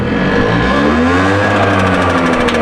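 A 2004 Piaggio two-stroke engine runs loudly close by, a steady buzzing drone with a slight rise in revs over a couple of seconds and a rapid pulsing rattle toward the end.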